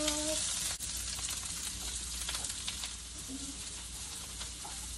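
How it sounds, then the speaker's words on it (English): Cabbage and onions sizzle in a very hot, lightly smoking pan, a steady close hiss with a sharp clatter near the start and soft stirring scrapes throughout. "While the pan's really hot, we're gonna start throwing in cabbage, then onions"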